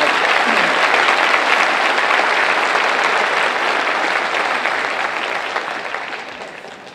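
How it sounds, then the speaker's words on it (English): Sustained applause from a large audience at an evening academic honors event, loud and dense throughout before gradually tapering toward the end, with no talk over it. "Please give them a round of applause for what they"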